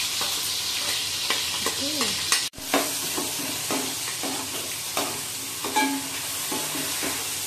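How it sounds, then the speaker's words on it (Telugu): Ground onions sizzle steadily in hot oil, with a few scraping stirs and a sharp clatter of a utensil partway through. "ఆయిల్ వేడెక్కాక ఆనియన్స్ వేయించుకుంటే బాగుంది"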